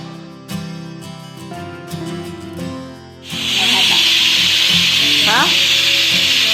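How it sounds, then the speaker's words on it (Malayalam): Pani puris fry in a little coconut oil with a loud, steady hiss of sizzling that sets in about halfway through, after a quieter stretch with a voice and other kitchen sounds. "കുറച്ച് വെളിച്ചെണ്ണയിൽ ഇങ്ങനെ ഇളക്കി അതിൻ്റെ മുകളിലേക്ക് വെളിച്ചെണ്ണ ഒഴിച്ചുകൊടുക്കും."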